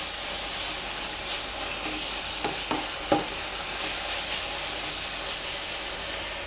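A thickening sweet mixture with grated coconut is stirred in a pan, a faint steady sizzle with a few soft scraping knocks from the spoon around the middle, no speech.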